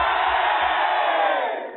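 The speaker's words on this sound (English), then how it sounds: "what about giving them a cheer?" A studio crowd at an ENSA wartime music broadcast lets out a loud, sustained cheer, a dense wall of voices that holds steady and then begins to taper off.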